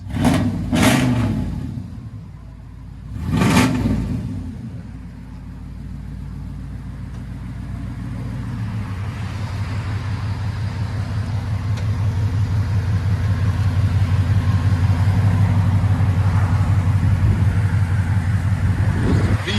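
A 1998 Chevy K1500 Silverado V8 with true dual exhaust, long tube headers and straight pipes, blips twice with loud throaty revs, then settles into a deep, rumbling idle that holds steady and close for the rest.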